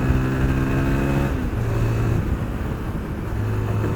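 A Zontes 350GK motorcycle accelerates uphill to overtake, its engine note droning steadily and climbing in pitch through a gear change, close and continuous under wind rush.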